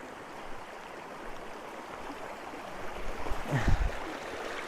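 A river flows below the surrounding mountains beside a motorcycle campsite, giving a steady, moderate wash of water with a brief louder splash or rustle near the end.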